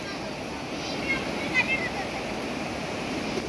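Water rushes steadily into a fish trap as it sinks, a continuous close broadband gush with faint bubbling swirls and no clear breaks.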